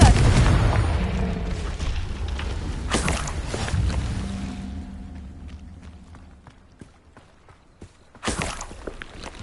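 A Confringo blasting spell explodes in Hogwarts Legacy, a loud booming burst followed by a rumbling decay, with a second sharp blast near the end amid game sound effects.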